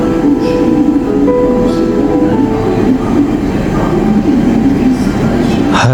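A moving train heard from close by, a loud, continuous rumble of wheels on rails with a faint squeal and slight rattling throughout.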